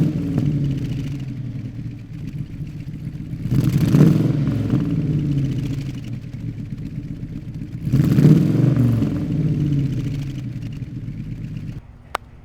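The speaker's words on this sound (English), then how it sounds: "let you hear just the purr of it a little bit" A 1969 Chevy Camaro SS with a 350 V8 rumbling at idle nearby, a loud, low burbling lope that swells twice into brief blips of revving before settling back, then cutting off near the end.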